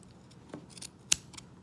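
Scissors trimming a small yarn pom-pom shaped like an emoji face: a few quiet, crisp snips, close by, with one sharper cut standing out against a near-silent background.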